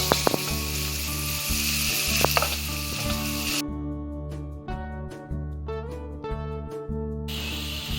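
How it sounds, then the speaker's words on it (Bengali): Three large onions frying in hot oil in a pan until reddish-brown for Murshidabad dudhiya biryani, a loud close sizzle broken by rhythmic scraping of a spatula stirring, with no talking. "পেঁয়াজটা আমি লাল লাল করে ভেজে নেব।"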